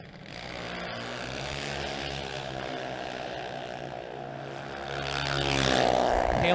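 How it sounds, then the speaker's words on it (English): Drag racing car engine revving hard at the top end of the track, a steady droning roar that swells louder toward the end, heard from a distance with no talk. "As you hear a few rips on the top end on the double breakout, Haley gets it done."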